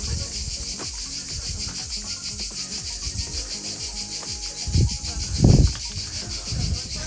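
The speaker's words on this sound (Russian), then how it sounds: "Слушайте, это страна цикад." Cicadas at the ruins of Stari Bar, Montenegro, make a constant rapid pulsing buzz throughout, with nearby footsteps and rubbing noises thumping beneath, louder toward the end.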